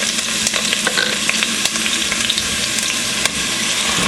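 Onions frying in oil in a cooking pot, a loud, close, steady sizzle with crackling pops and occasional stirring scrapes throughout, no voices.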